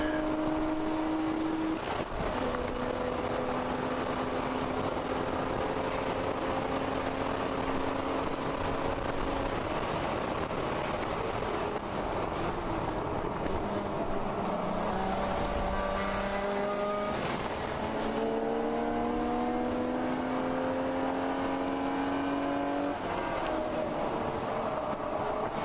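Race cars, including a Porsche 944, pass during a ChampCar endurance race at Road America, their engines droning and shifting pitch in a constant loud roar of mixed track noise.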